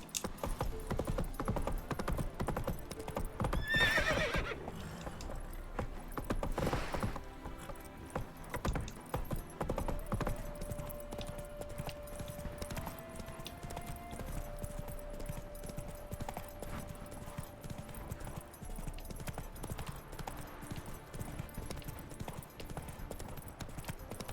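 Horse hooves clip-clop steadily on the ground in The Witcher 3 while Geralt rides his horse, the rhythmic footfalls continuing under game music and ambient sound throughout.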